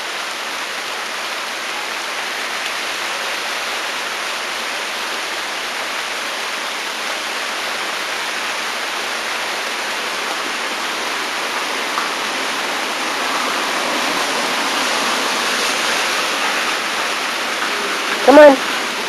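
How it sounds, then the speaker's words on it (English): Steady rain falls outdoors near a porch, an even broadband hiss that fills the whole clip and grows slightly heavier toward the end. "here comes the rain"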